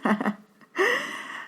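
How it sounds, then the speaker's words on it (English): Close, breathy exhales and gasps from a baby, a few short puffs followed by a longer drawn breath, with no talking. "If you hear some heavy breathing in the background, it's not me."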